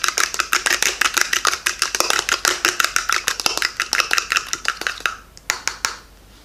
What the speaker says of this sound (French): je prends à peu près une cuillère à café de citron que je mets dans mon blanc d'œuf. Ensuite, tout ce qu'il faut faire, c'est voilà, battre l'œuf